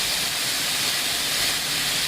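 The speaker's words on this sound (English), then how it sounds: "we have our turkey simmering away in the pan here" A frozen turkey simmers in a pan, giving a steady, even sizzling hiss throughout the short stretch.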